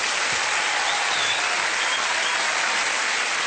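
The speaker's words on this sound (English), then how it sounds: "Please give a big round of applause to Stuart and Vicky." A studio audience at a television panel show applauds steadily, a dense continuous wash of clapping at full volume with no speech over it.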